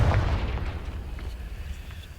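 A Confringo spell detonates in Hogwarts Legacy with a loud, close explosion at the start, its heavy boom rolling off into a long, fading low rumble.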